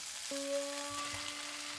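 Thickly spread shredded potato pancake, coated with corn starch, fries in a pan with a steady, close hiss of sizzling oil. A short tonal chime sounds early over it.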